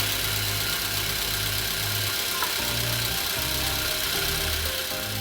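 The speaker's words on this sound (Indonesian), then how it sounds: "Kira-kira seperti ini suara mesin yang masih halus." A 2011 Toyota Avanza G with low mileage idles smoothly, a steady, even engine hum with a faint repeating low pulse, close by and without talk.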